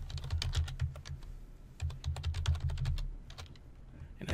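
Fingers type on a computer keyboard in two fast bursts of close, crisp key clicks separated by a short pause, with a few scattered taps at the end.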